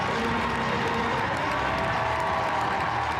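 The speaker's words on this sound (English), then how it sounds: "What a cheer." A large crowd at a show jumping Grand Prix in London cheers and applauds, a loud, steady roar that holds throughout without a break.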